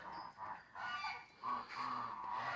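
Farm ducks give a run of honking, nasal quacks in several bursts, fairly close and moderately loud, with no talking over them.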